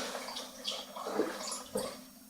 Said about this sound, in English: just keep pouring in until you have a soft dough